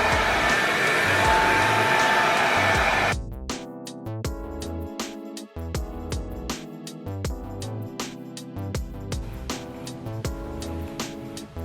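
A hair dryer on high heat blow-drying 4C natural hair gives a steady, loud, close airy whoosh for about three seconds, then cuts off as rhythmic music takes over.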